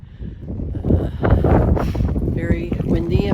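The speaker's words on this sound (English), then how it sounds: "Very windy." Strong wind buffeting the microphone on a granite-slab mountain climb along the Appalachian Trail, loud gusty roar rising and falling, with a person speaking over it.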